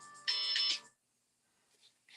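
Incoming call tone on a phone chirps once as a short bright electronic ring burst, followed by near silence and faint rustling.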